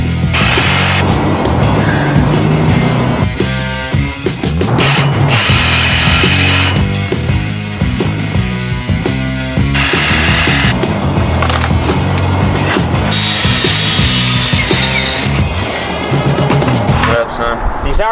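A power tool cuts van suspension parts, including axles and a junkyard sway bar from a 2010 F250, in loud, close bursts of grinding and rattling that stop and start with brief pauses between cuts.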